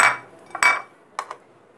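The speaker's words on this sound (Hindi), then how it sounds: "ये सारी चीज़ें जो हैं मैं कुकर में डालने जा रही हूँ।" Whole spices and aromatics for yakhni pulao, fennel, coriander, garlic, ginger, garam masala, black cardamom seeds and cloves, dropped into a metal pressure cooker, giving a few sharp close clinks and clatters with short pauses between them.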